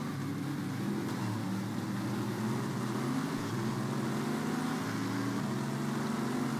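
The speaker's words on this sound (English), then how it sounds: "You just hear how loud this car is" A loud race car engine in a GT racing video game, recorded on board during a 500 km race at Calgary, drones steadily and evenly for the whole stretch, with no talk over it.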